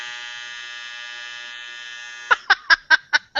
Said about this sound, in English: How many beepers and buzzers does it have?